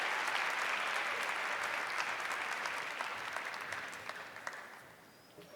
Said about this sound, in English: Please join us in giving a warm round of applause to New Mexico's own Lieutenant Governor Howie Morales.